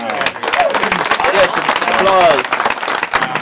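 An audience at a live airsoft show applauds steadily throughout with dense clapping and some cheering, while people talk over it.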